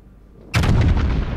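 Heavy battleship guns fire in the naval video game World of Warships, aboard the Yamato: quiet engine hum, then one sudden loud booming salvo that rumbles on and holds without fading.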